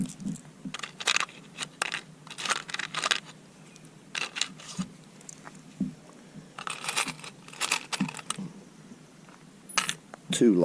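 Steel bolts and lock washers for a concrete pump's battery mount rattle and clink as they are gathered by hand, in irregular bursts of metallic jingling and clatter up close, with brief pauses between handfuls.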